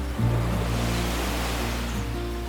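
Ocean surf roars continuously below the cliffs at Nugget Point, New Zealand, a loud, dense wash of breaking waves with a low rumble and no voices.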